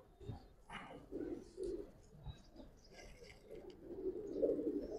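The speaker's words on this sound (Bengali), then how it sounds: "দেখেন এটা একটা নর কবুতর" A male pigeon of a pure breeder line coos in repeated low, throaty phrases, fairly close, with a few sharper calls and background rustle mixed in.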